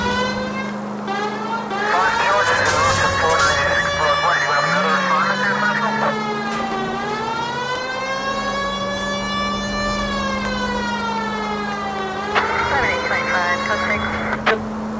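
Wailing police car siren from the L.A. Noire video game, a loud sweeping tone rising and falling in long slow cycles over a steady engine hum, with someone talking during part of it.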